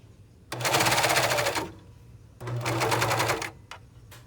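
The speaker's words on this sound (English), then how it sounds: "serger, and sew the fabric to it just under that seam right there." A serger stitches ruffle fabric under a seam in two loud, close bursts of rapid mechanical whirring, each about a second long, separated by a short pause, with a brief third blip at the end.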